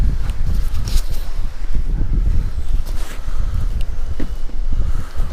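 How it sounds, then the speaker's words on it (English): Strong gusting wind, around 20 miles an hour, buffets the microphone beside a small creek on a cold day, a loud continuous rumble and rush with no talking. "20-mile-an-hour winds, can't beat that"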